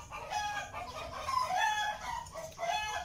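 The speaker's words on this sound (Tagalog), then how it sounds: "Napaka-ingay dito sa amin yung mga manok." Chickens nearby cluck and a rooster crows in short, repeated calls with no talking, fairly faint, heard outdoors near a home kitchen.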